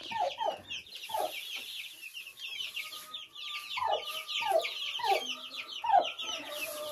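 Young chickens cluck and peep in a sunny yard, a busy overlapping chorus of soft clucks and high chirps with a few louder calls standing out, continuous throughout.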